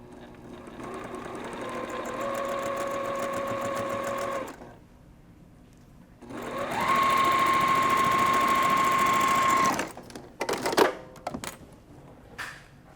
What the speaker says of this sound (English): Now stitching the rows together, we will pin these intersections